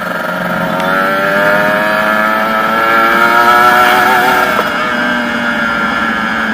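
A Kawasaki Ninja RR motorcycle engine drones and revs up and down steadily at close range, its tone rising slightly without pause.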